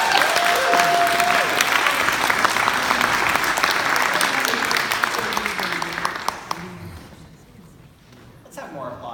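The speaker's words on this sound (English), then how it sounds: "Let's have some applause for Jude Jussum." Warm applause from a live audience at an LGBTQ+ storytelling event welcoming a storyteller, dense clapping that fades out over several seconds into near quiet, with a few voices audible as it dies down.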